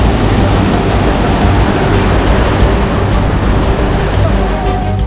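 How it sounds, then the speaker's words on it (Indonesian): Ocean waves surge and crash on the shore where people gather seaweed, a loud, close, continuous rumbling roar of surf with a heavy low-end wash and occasional sharper splashes. "Kami harus bertaruh dengan hempasan ombak yang tak bisa diprediksi."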